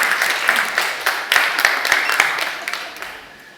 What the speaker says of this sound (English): let's go for another round of applause